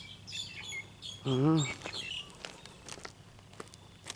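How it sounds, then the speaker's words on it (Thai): Several birds, including mynas, calling at a wetland: bright chirps and whistles scattered throughout, with one louder, nearer warbling call midway and faint footsteps in the background. "รู้สึกว่าเสียงนกหลายชนิดนกเอี้ยงอะไรก็ยังอยู่"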